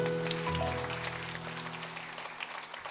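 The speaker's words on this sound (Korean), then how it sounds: "박수해 주시죠" A church congregation applauds during a Sunday morning worship service, a steady wash of clapping that goes on for the full stretch, with a sustained organ or keyboard chord ringing underneath at the start.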